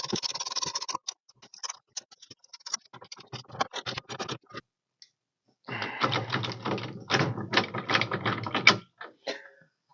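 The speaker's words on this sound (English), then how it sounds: "We're just gonna run this nut down to make sure we're seated." A nut is run down on the horn button shoulder bolts of a Ford F100, with rapid close ratcheting and scraping clicks in two busy bursts separated by a quieter stretch of sparse ticks.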